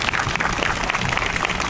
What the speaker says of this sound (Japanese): じゃあ、大きな拍手お願いします。